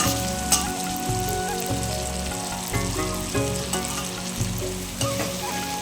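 Steady fish-fat frying sizzle crackles in a pan throughout, with occasional sharper pops and clinks of a utensil stirring.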